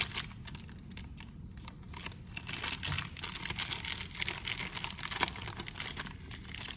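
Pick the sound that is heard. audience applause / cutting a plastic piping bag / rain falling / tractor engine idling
cutting a plastic piping bag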